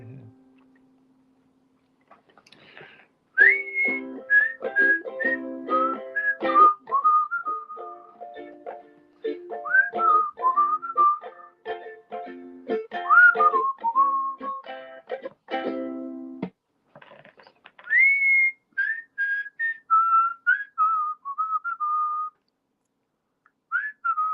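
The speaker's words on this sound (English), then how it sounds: "A little bit of whistling" Someone whistles a bouncy, cheerful tune alone, melodic phrases rising and falling with brief pauses, close and clear.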